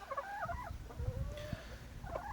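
Gamefowl chickens, including pure Bennett birds, cluck in short melodic bursts at the start and again near the end, with low scuffling and thumps in between from a breeding-season yard.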